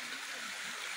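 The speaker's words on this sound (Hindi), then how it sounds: "यहाँ पे ना पानी का गधेरा आ रहा है ऊपर से।" A mountain stream runs down from above past a large rock, a constant close rushing of water that stays steady throughout with no voices.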